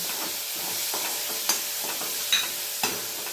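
Boiled mung beans stirred into a light hot-oil tempering with the flame turned off: a bright continuous sizzle and hiss with soft spoon scrapes and a few clinks, close up and without speech.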